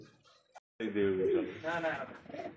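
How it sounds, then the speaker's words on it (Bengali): A pair of Rasgolla pigeons coos with rounded, repeated notes, and someone speaks over or near them through most of the stretch. "আল্লাহর নামে শুরু করলাম এক জোড়া কিন্তু রাসগোল্লা কবুতর"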